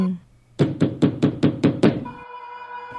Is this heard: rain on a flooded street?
no